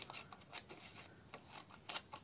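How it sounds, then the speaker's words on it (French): Scissors snipping paper at close range on a craft table, a quick run of short irregular crisp cuts repeating across a couple of seconds, fairly quiet with no talking. "On découpe."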